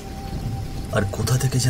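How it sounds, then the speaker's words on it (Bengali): Storm rain hisses in a dense, steady wash with a rumbling surge of thunder building toward the end, a dramatic cartoon sound effect heard under a narrating voice. "আকাশের মেঘ হঠাৎ ফেটে ঝড় বৃষ্টি শুরু হলো"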